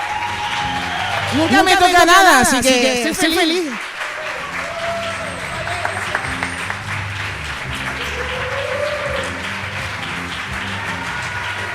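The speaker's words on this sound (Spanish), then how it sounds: "Un aplauso para Patri." Audience applause at a poetry slam in Iruñea swells as a broad wash while a person speaks loudly over it, then settles into lighter, continuing clapping beneath quieter voices.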